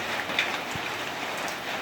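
Steady rain pours onto trees during a rainstorm, a dense, even hiss of drops striking leaves, close and continuous with no voices.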